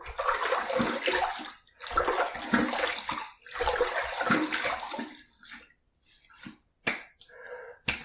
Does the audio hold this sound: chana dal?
no